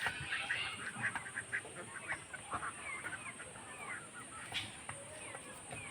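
A flock of ducks quacking at a distance by a large pond, scattered calls over a steady outdoor background.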